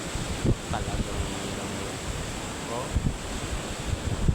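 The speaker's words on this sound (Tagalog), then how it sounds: "Ay, lakas ng alon." Strong sea waves washing onto a tropical beach, a steady loud roar of surf mixed with gusting wind buffeting the microphone, with a few brief thumps.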